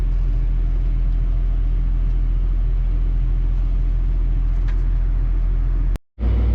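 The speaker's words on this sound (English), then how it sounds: "So that's KRB's truck" A corn-hauling box dump truck at a farm during corn chopping, a steady low engine rumble at close range that runs throughout before a brief cutout near the end.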